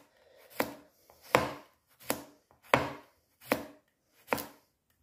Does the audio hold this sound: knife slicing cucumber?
yes